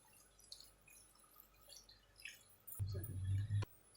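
Water pours into a pot of chicken pulao with a sudden low gushing splash near the end, after a quiet stretch of faint drips and kitchen noise.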